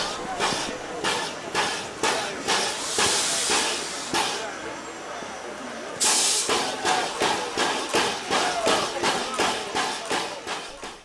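Steam train Ferdinand pulling into the Aluksne terminus on the Gulbene-Aluksne narrow-gauge line: loud steam hiss with repeated rhythmic chuffs and rail clatter, bursts of venting steam, up close and continuous.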